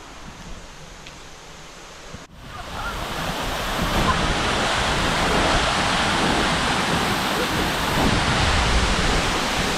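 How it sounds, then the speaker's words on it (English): A steady roar of a waterfall in northern Thailand swells in after a brief quieter moment, then holds as a loud, continuous wash of noise. "let's get towards this waterfall."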